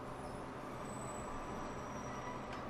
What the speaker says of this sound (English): There's the Russian train in the background